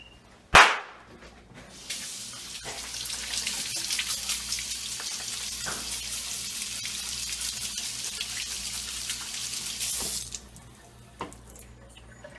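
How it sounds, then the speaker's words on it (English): Tap water runs steadily into a sink as hands are washed in a home kitchen, a broad continuous splashing that starts after a sharp knock, holds for about eight seconds, then cuts off, leaving a quieter room. "as all good chefs do, you gotta wash your hands"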